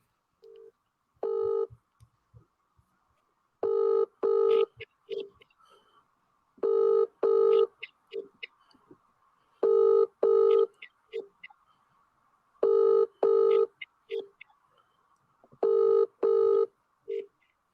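A telephone ringing tone on a cold call, sounding as repeated double pulses with steady gaps between them, clear and moderately loud over faint line hiss, with no one talking.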